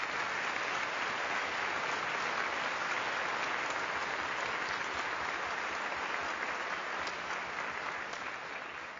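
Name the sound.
round of applause in legislative chamber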